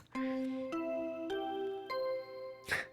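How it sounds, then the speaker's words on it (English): Body discovery announcement chime from the Danganronpa: Trigger Happy Havoc video game: four clear bell-like tones stepping upward in an even rhythm, fairly loud and alone, ending with a brief noisy burst. "What you just heard was the body discovery announcement."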